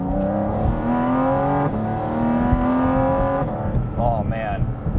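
Porsche GT4 RS, a mid-engine sports car, cruising on curvy back roads, its engine holding a steady loud drone with rising and falling revs and a few gear changes, close and continuous.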